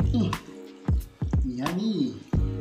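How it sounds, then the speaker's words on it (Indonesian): Homemade watermelon juice poured in a home kitchen, with soft dripping and liquid splashes in a few separate bursts, fairly close and moderately loud, while a voice talks over part of it. "tinggal kita tuang saja"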